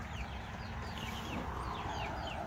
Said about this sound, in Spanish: Ahí andan los pollitos.